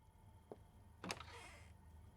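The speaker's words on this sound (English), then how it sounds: "Doors." A door opens in a horror video game: a faint click, then a louder latch clunk followed by a soft creaking swing, quiet and close with no talking.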